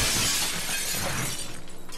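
Glass shatters with a loud, dense broadband crash in the Happy Wheels video game, the breaking debris sustained for about a second and a half before thinning into a brief tinkling tail.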